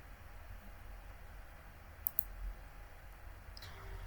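Two quick, faint mouse clicks land close together about midway through, heard while working in InDesign against a quiet background hiss.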